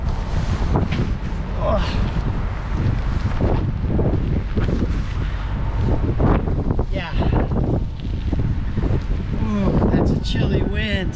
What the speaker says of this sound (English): Chilly wind.